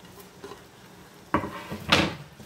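Banana heart salad with tomatoes and green onions is stirred in a bowl, giving soft wet squelches and a couple of louder scraping, clattering mixing strokes, close and quiet.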